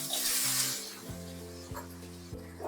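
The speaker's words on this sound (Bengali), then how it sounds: "ফোড়নে দিয়ে দিলাম শুকনো লঙ্কা, অল্প জিরে, গরম মশলা আর তেজপাতাটা ফোড়নে দিয়ে দিলাম।" Dry chillies, cumin, garam masala and a bay leaf hitting hot oil for tempering, a brief loud hiss that quickly settles into a softer sizzle with a few faint clinks.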